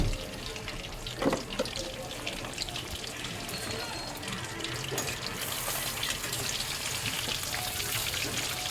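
Tilapia frying in oil in a pan gives off a steady, fairly loud crackling sizzle that fills the whole stretch without a break, with no voices over it.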